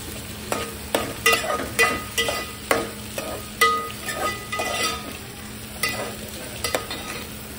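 Onion and tomato sautéing for khichadi in a pan: a soft continuous sizzle under repeated scraping stirs of a spoon against the pan, close and fairly loud, in an irregular rhythm.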